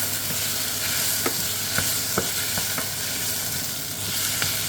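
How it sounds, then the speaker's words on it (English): A spoon stirs and scrapes in a pot of potato and leek soup with a few clinks, over a steady sizzling hiss from the hot pan. "I'm just going to stir, give this a quick stir."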